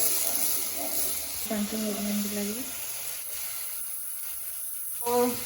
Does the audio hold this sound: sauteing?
yes